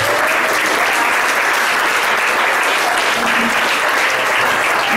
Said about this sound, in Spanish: Ahora fuerte aplauso al Señor.